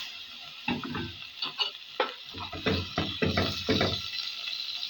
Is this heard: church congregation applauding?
no